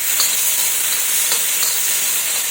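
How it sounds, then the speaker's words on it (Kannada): Onion and tomato frying in a pan for a green chilli chutney, giving a steady, dense sizzle and hiss throughout, close and fairly loud, with faint stirring scrapes. "ಇದನ್ನು ಚೆನ್ನಾಗಿ ಫ್ರೈ ಮಾಡಬೇಕು"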